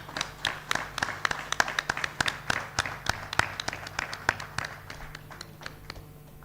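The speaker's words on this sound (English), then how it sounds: "With a thunderous round of applause" Sparse, distinct hand claps from a small audience at a regional workshop on biomass co-firing in thermal power, heard as individual sharp claps in an uneven rhythm that thin out near the end.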